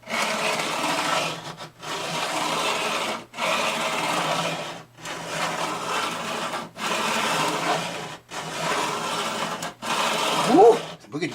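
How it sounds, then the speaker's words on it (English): A file is drawn across the frets of a D15 acoustic guitar to level them, giving seven long, even scraping strokes separated by short pauses, close and clear, without speech. "I'm just going to set the file on there very gently."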